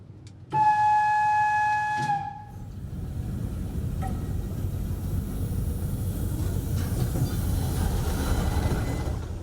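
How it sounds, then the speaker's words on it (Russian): New mainline electric and diesel locomotives of the Abkhazian railway: a loud two-tone horn blast for about two seconds, then a steady rolling rumble of a passing train with faint wheel clatter. "Абхазская железная дорога закупила 2 магистральных локомотива – и электровоз, и тепловоз"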